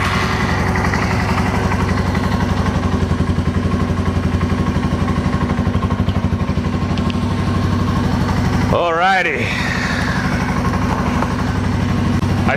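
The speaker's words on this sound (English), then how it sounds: "Did my dumbass leave the bike on? Yep, definitely left it on." A Yamaha TW200 motorcycle engine idles steadily nearby, a loud continuous mechanical chug with rhythmic clatter running through the whole stretch, briefly broken by a short swooping noise near the end.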